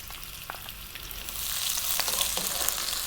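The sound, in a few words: onions frying in hot spiced oil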